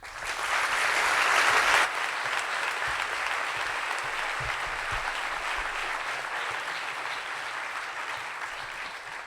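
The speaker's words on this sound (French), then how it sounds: "Merci d'applaudir très fort Marie Trébert." An audience at a storytelling evening bursts into loud, dense applause for the speaker, peaking briefly before settling into steady clapping from a crowd that carries on to the end.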